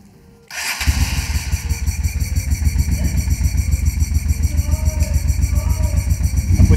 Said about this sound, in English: First start with the new carburetor on there.